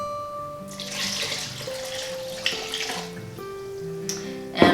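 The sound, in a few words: pouring two cups of water into soup pot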